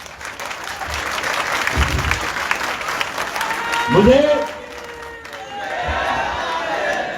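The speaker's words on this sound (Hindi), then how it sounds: "यहां तो तालियां भी बज रही हैं" Steady applause from an audience at a ceremony in Pak Colony honouring martyrs, filling the hall continuously while a voice carries over it.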